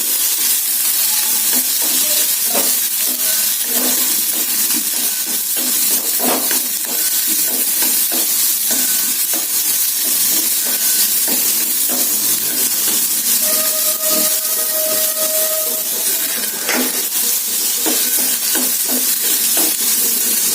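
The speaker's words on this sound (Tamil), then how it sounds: "இப்போ வெங்காயத்தை போடுறேன். வெங்காயத்தை போட்டுருக்கேன். கொஞ்சம் வதக்கிடலாம்." Onions sizzle in hot oil in a pan while being stirred for carrot chutney, a steady loud frying hiss broken by scraping spatula strokes, with no voices.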